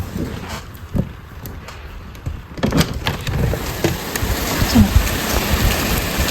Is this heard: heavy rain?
yes